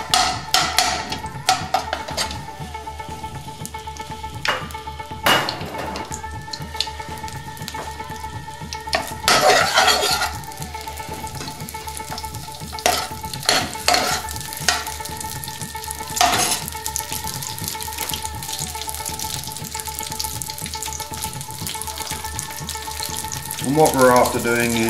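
Half a small cubed onion, broken into scales, frying in a curry pan, a continuous close sizzle broken by clattering stirs and scrapes, with a brief hiss of water near the end.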